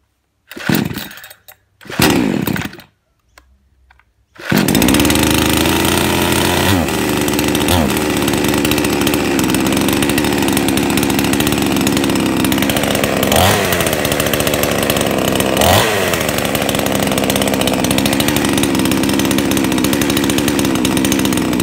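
A Baumr SX62 chainsaw gets a few sharp pull-cord tugs, then fires up and runs loudly and continuously close by, its two-stroke engine roaring steadily with a couple of brief throttle dips.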